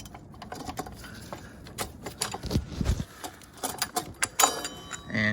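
Metallic clinks and ratcheting clicks from a 12mm wrench removing a brake caliper on a Kawasaki ZX10R motorcycle, close and irregular, with light tool handling and scraping.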